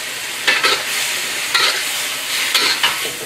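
Beef and mixed vegetables stir-fry on a stove in a splash of stock, with a steady close sizzle and repeated bursts of scraping and stirring roughly once a second.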